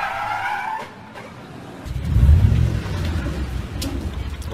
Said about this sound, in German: Mustang im Drift zu kontrollieren, das muss schon gekonnt sein